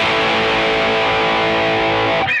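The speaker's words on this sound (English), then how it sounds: "Very snarling, high gain, aggressive distortion." Electric guitar through a TC Electronic Nova Drive pedal, treble at maximum, holding a loud, snarling high-gain distorted chord that rings steadily before cutting off at the end.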